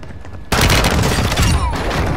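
Hip-fired gunfire in a video game erupts loud and sudden after a half-second lull, then continues as a dense, sustained automatic burst.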